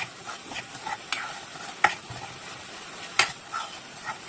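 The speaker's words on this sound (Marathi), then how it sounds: "तर लसूण सुद्धा यामध्ये 1 मिनिट या तेलामध्ये कांदा आणि लसूण आपण परतून घ्यायचे." Onion and garlic fry in oil over a medium flame for pav bhaji while a spoon stirs them, giving a steady sizzle marked by several sharp scraping clinks against the pan.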